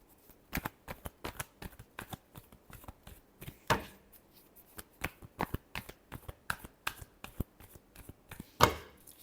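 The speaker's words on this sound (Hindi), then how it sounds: "Last shuffle." Tarot cards shuffled by hand in a reading, a quick run of crisp riffling snaps and soft flutters, close and fairly quiet with no talking over them.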